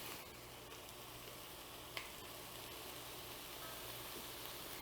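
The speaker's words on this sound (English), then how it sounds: "And now we want to just let it saute for a couple of minutes." Vegetables for a three sisters salad sauté in a pan with salt and pepper, giving a soft, steady sizzle with one small clink partway through and no talk.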